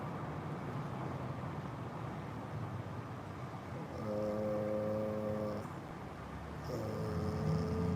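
Car engines in the video game Hide and Synk, a steady low rumble of passing traffic with tonal engine drones rising in at intervals, moderately loud and continuous.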